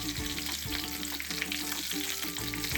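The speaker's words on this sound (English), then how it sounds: "Now it's time to flip the patties." Slider patties sizzle loudly in a pan as they are flipped, with a steady close frying hiss and a few soft scraping and shifting sounds.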